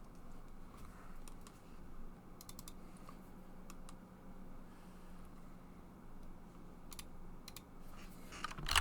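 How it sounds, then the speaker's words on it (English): Computer keyboard typing during an online diplomacy game session, a quiet run of scattered key clicks over low background hum, faint and steady throughout. "Are you typing?"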